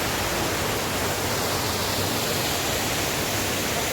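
A waterfall near Parleshwar and Pavankhind roars as a constant, dense broadband rush of falling water, loud and unchanging throughout, with no voices or other sounds breaking through.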